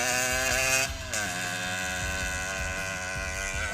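A homemade 125cc two-stroke kartcross engine runs loud and close, a buzzing, raspy high-pitched drone with a quick rev change early, then steady.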